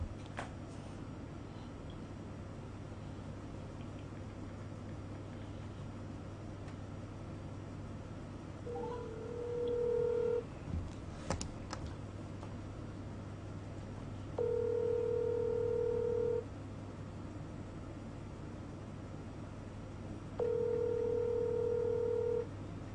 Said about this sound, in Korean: MT 경님 전화를 안 받으시는데?